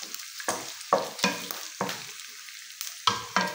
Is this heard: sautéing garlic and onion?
yes